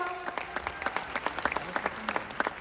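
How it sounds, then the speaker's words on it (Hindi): Audience applause fills a corporate event in honour of company management, a steady burst of many hands clapping close and fairly loud throughout. "ऐसे एमआई लाइफस्टाइल के मैनेजमेंट अपने श्रीकांत जी के लिए जोरदार तालियां।"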